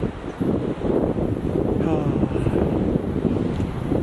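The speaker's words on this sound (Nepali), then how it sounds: "एकदम चिसो हावा आइरहेछ" Steady blustery cold wind roaring against the microphone in Jumla Khalanga, Nepal, with a low rumbling buffet throughout and faint voices underneath.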